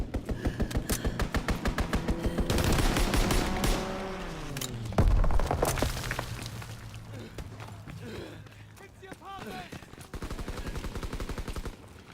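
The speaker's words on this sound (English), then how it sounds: "Strafing run inbound." Rapid automatic gunfire from a strafing run in a combat video game, with dense repeated bursts, a descending engine whine and a heavy boom midway, followed by more bursts near the end.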